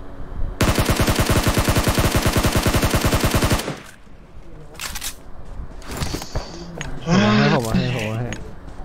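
A long, rapid automatic gunfire burst in a video game rattles loudly for about three seconds with an even rhythm. Excited talking follows over quieter game sounds, and no distinct buggy explosion stands out.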